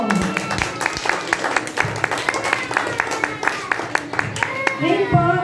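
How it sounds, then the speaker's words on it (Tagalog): A church congregation at a midweek evening service in the Philippines gives a round of applause to the Lord, clear individual claps in a quick irregular rhythm, close and fairly loud, with voices speaking and calling out over it. "Kaya po, bigyan po natin ng palakpak ng ating Panginoon."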